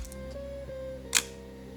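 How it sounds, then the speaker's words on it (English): A Nicca 3S rangefinder camera, a compact Leica II copy, fires its shutter once: a single short, crisp click, close and quiet, over a faint steady hum. "this is a more elegant camera because it is really compact and has such a nice shutter sound"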